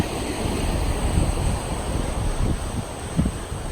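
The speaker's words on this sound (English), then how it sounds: "feel the breeze, hear the sound of the ocean" Ocean waves and a breeze at Burleigh Head on the Gold Coast, a continuous broad wash of surf with wind buffeting the microphone, loud and close, with low gusty rumbles rising and falling.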